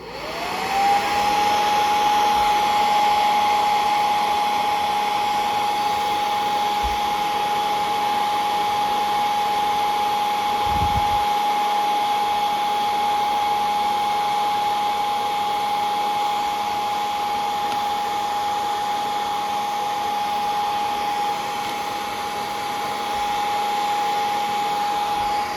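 A heat tool blows hot air on an action figure, a steady loud whoosh with a constant high tone that runs unbroken for the whole stretch, with a few faint thumps beneath and no talking.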